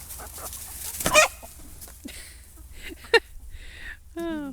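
Two roosters fight, clucking and squawking in short bursts with a sharp flurry and a rooster call at the end, beside a chicken coop against a quiet background with faint voices.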